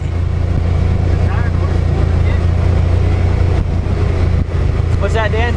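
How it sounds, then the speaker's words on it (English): A steady, deep engine drone and exhaust rumble from a Yamaha Wolverine X4 side-by-side UTV runs throughout, close and loud, with faint voices and a brief squeaky sound near the end. "there's just enough hint of the exhaust and engine note on this"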